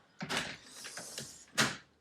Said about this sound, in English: I'm also going to lock this door.